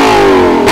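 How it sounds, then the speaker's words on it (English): Lexus LC500 exhaust blaring in a short, loud rev, the engine tone sweeping downward as the revs fall, brief and close. "the exhaust is even more impressive."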